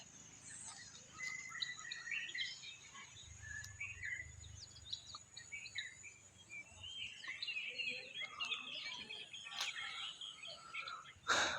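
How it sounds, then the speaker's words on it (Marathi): Several birds chirp and twitter in quick, scattered calls over a quiet outdoor background by a calm river in Konkan, some near and others farther off. "पक्ष्यांचा पण आवाज खूप छान आहे"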